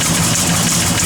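A 1972 Chevrolet Chevelle SS big block V8 runs loud and close, a dense, steady rumble with no break and no voices over it.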